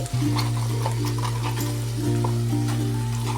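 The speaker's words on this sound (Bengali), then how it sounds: "সমস্ত সবজিগুলো ভালো করে নেড়ে নেব এবং কিছুক্ষণ ভেজে নেব" Carrot, beans and cauliflower stirred and fried in a pan of vegetarian curry, cooked without onion or garlic: a constant close sizzle runs under a steady hum, with occasional soft clinks and scrapes of a spatula and no voices.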